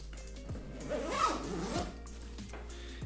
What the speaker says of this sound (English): I'm going to close up this zip